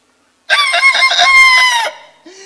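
A voice imitates a rooster crowing, one loud, close, drawn-out cock-a-doodle-doo cry with a wavering pitch, heard alone.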